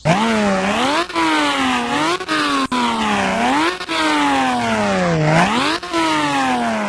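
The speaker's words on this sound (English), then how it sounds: "that's a regular, you know, flat 6 naturally aspirated 911 startup" A naturally aspirated flat-six Porsche 911 in the Roblox racing game Midnight Chasers starts up and revs repeatedly, each loud rising sweep falling back in a steady rhythm, alone and close.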